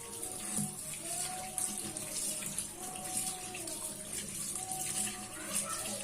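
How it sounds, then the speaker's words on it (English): Steady running tap water splashing into a sink as an aloe vera leaf is washed under it, continuous and close, with faint background voices. "Wash it in running water just to be sure that it's thoroughly clean."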